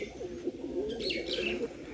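Pigeons calling inside their coop at a home loft, soft low cooing that warbles continuously with a couple of faint higher chirps, close and quiet.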